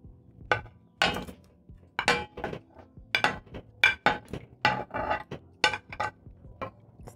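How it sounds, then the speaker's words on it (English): A utensil repeatedly knocks and scrapes against a metal pot while stirring bananas into a bean stew, in an irregular rhythm, with clinking strikes close to the microphone. "Stir in the bananas."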